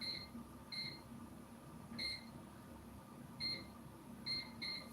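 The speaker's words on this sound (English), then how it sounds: "And I'll just set the timer." Kitchen oven timer being set, giving short electronic beeps in irregular pairs and singles over a faint background hum, fairly close.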